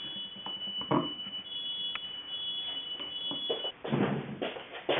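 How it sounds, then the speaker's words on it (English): A smoke alarm, set off by cooking, sounds a steady high-pitched tone under bursts of scraping, rustling noise, then cuts out near the end. "my husband was cooking and he set off a smoke alarm"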